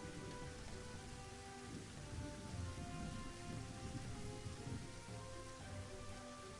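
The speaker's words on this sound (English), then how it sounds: "It's a rainy day." Steady rainfall in the video game Elder Scrolls 2, a dense, even hiss of rain with faint low rumbles that continues without pause and carries no speech.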